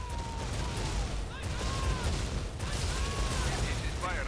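Battle in the video game Tom Clancy's EndWar on hardcore difficulty, with tanks, gunships and transports opening fire: continuous rattling gunfire and explosive bursts with whistling projectile sweeps, dense and loud throughout.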